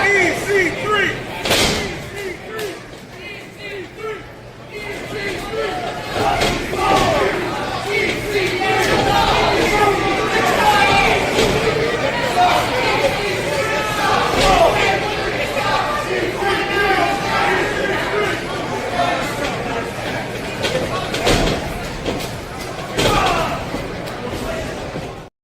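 A wrestling crowd cheers and chants for EC3 in rhythmic unison, the loud roar of the arena broken by occasional sharp slams and thuds, with voices rising and falling across the whole span.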